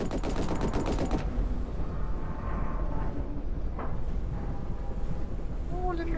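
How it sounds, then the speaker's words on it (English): A tank's machine gun rattles in rapid bursts during a video game, loud at first and then cutting off, leaving a rumbling battle backdrop with a voice talking over it. "I feel like the machine gun on this tank is more useful than the actual"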